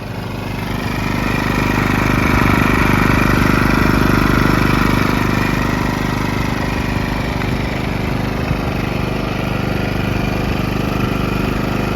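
A PowerSmart portable generator runs steadily with a continuous, even engine drone that holds a constant level throughout, close and unbroken.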